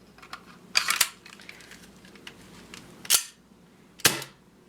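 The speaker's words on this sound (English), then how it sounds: "it shot a BB despite being a brand new gun, which should have been empty" A brand new airsoft gun fires a BB, heard as a sharp snap at about three seconds and another near four, with an earlier burst of clatter, against a quiet room.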